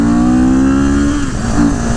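A CFMOTO sport-style motorcycle pulls hard in second gear, its engine loud and close, roaring with a steady tone that shifts slightly as it accelerates.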